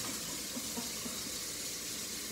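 Beer flows steadily from a Sharper Image canned beer draft tap pouring Harpoon IPA at home, a close, even hiss of liquid with no speech over it.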